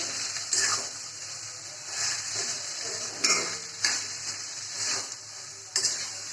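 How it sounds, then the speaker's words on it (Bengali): Smashed flat beans frying in a pan with a continuous sizzle, while a utensil stirs and scrapes the pan in repeated bursts and clinks. "এখন ভালো করে ভাজা ভাজা করলেই আমার তৈরি হয়ে যাবে সিম ভর্তা রেসিপি"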